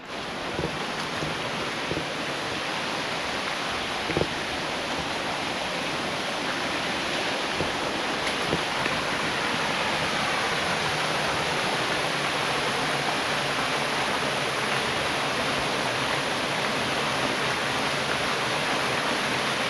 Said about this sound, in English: let's go check out this waterfall